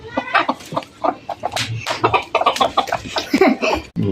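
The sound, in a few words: hen clucking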